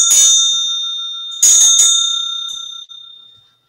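A small bell or gong is struck twice, each ring bright and sustained with a clear metallic tone decaying slowly; a lighter tap follows the second strike, and the ringing fades out alone.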